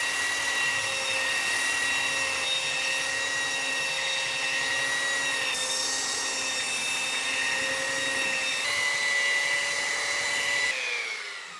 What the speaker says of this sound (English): I'm just going to do a quick belt sanding of the faces before I make these cuts